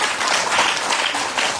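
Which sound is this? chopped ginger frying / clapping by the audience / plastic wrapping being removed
clapping by the audience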